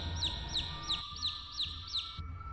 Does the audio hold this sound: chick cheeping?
yes